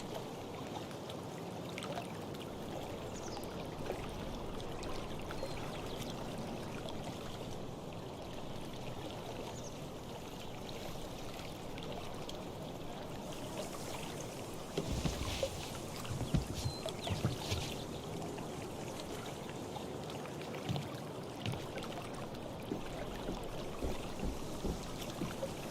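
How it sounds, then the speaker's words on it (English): Kayak paddling through water in Life Is Strange: True Colors, soft steady swishing and trickling of water, faint and continuous, with slightly sharper splashes later on. "If not for the paddling, kayaking would be super relaxing."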